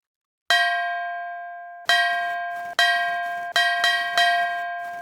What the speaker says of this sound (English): Bloody bell.